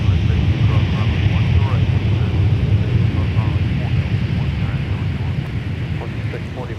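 Airliner taking off from a runway at Minneapolis–Saint Paul (MSP) airport, a loud, steady jet roar with broadband rumble that holds throughout and eases slightly toward the end, with no speech over it.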